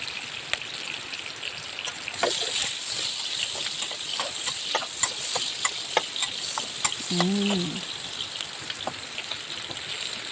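Pork belly renders its fat in a hot pan with a steady, close crackling sizzle and scattered sharp pops for the whole stretch, with no talking.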